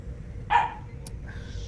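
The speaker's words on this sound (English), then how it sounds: "my dogs are barking" A single faint dog bark rings out from a distance over a quiet background, followed by a brief click.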